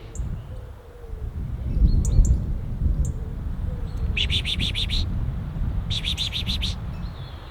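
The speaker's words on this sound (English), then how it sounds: "There's a load of birds in the tree." Faint bird chirps and a couple of rapid trilling bursts sound from a short distance over a low outdoor rumble.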